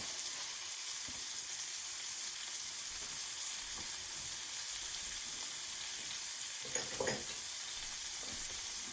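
Food for veal Marsala sizzles in a pan in a steady, close, even frying hiss, with a brief crackle near the end.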